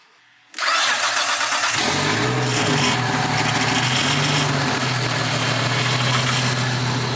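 A car engine, an RB25DE turbo in an R34 Nissan Skyline, cranks and catches after a brief silence, then settles into a loud, steady, raspy idle from an open downpipe exhaust, close by.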